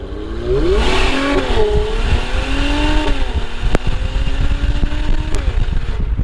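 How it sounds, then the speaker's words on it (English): A 2017 Mercedes-AMG GLC 43 SUV engine revs hard with a rising, throaty exhaust roar, holding at high revs with a slight dip and climb, loud and close. "at higher RPMs, the exhaust sounds fantastic"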